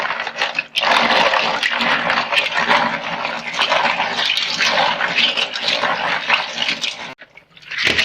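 Snails are rinsed in water for a Moroccan herb dish, with loud, continuous sloshing and churning close by for several seconds, then a brief pause and a final splash.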